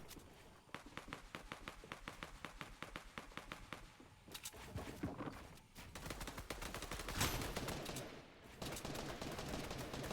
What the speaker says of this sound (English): was also looking to take some pot shots there at Ciriuhs